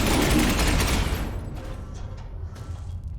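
Sustained burst of video game gunfire from the Space Hulk Ascension Warhammer 40k game blasting through a broken door, a loud dense roar of rapid shots for about a second, then fading into a rumbling tail.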